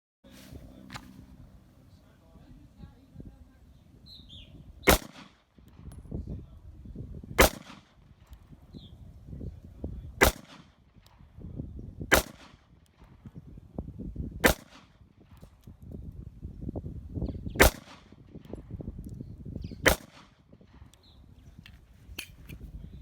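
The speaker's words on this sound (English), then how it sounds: "that was the first 7 shots" Smith & Wesson M&P Shield 45 pistol fired at a shooting range, seven sharp, loud shots spaced a couple of seconds apart, with range noise and rustling between them.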